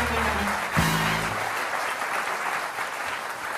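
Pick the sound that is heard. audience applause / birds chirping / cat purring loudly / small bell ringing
audience applause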